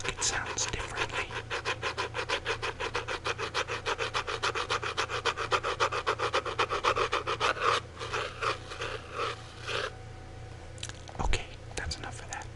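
Close, rapid rhythmic rubbing and scratching on a book in a quiet room for about eight seconds, then a few softer scattered scratches and a light tap.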